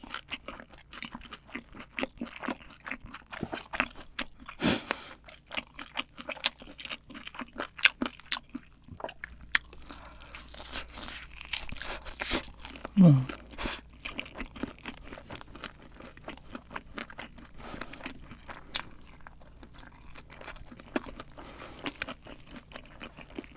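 Spicy fire chicken eaten up close with cheese fondue, giving a long run of crisp crunches, bites and wet chewing, irregular and intimate, with a brief squeak partway through and no talking.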